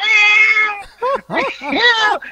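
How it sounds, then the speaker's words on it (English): A cat meows several times in quick succession, a long drawn-out cry followed by shorter, rising and falling meows, close and clear. "there's a cat meowing"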